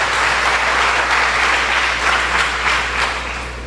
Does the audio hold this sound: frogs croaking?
no